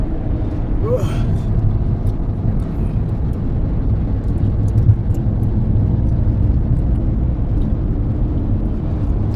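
Car driving on a road heading north, a steady loud low rumble of engine and road noise filling the whole stretch, with faint speech-like sounds mixed in.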